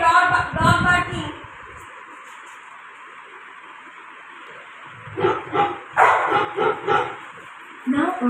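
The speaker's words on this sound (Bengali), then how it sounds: "Alexa, play dog barking." A recorded dog barking sound effect plays through an Alexa smart speaker indoors: a cluster of barks up front, a quiet gap, then a run of several more barks near the end, with voices around it.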